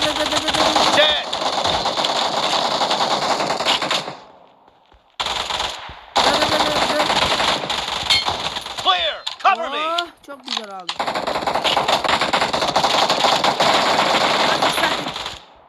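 PUBG video game gunfire: loud, rapid automatic bursts fill most of the stretch, separated by brief silent gaps, with a short section of sweeping whistling effects midway.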